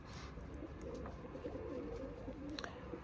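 A neighbour's pigeon coos on a rooftop, a faint, low, murmuring call repeated softly against a quiet outdoor background.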